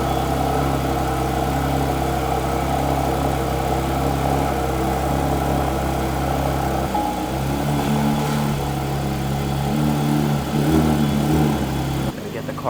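A Porsche GT3 RS engine idles just after a cold start, a loud, steady, continuous rumble that holds for the whole stretch with only slight wavering.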